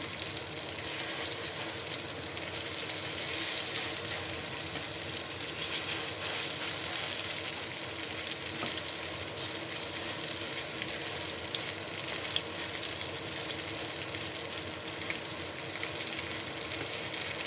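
Meatballs (Frikadellen) sizzle steadily in a pan after being flipped, a constant close frying hiss with no voices.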